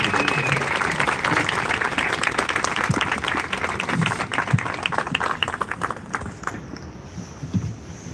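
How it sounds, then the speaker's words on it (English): Crowd at an evening event in Berlin giving warm, sustained applause, dense clapping that runs throughout and thins a little toward the end, with faint voices mixed in. "A very warm applause for Cem Özdemir and Canlı,"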